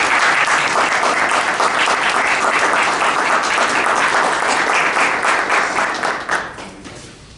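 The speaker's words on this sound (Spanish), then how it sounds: "Claro que sí, un aplauso." A room full of people applauds at a book presentation event in Zapala, a loud, sustained burst of clapping that holds steady, then thins out and fades toward the end.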